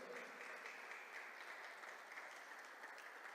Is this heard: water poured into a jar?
no